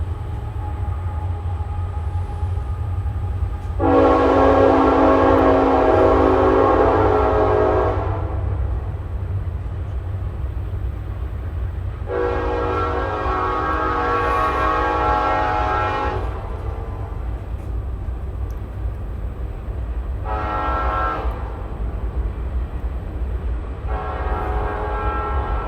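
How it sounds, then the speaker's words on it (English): A train rumbles past nearby under a steady low drone, its horn sounding in several loud sustained blasts of a few seconds each, then two shorter ones near the end. "I apologize for the train that's about to pass by."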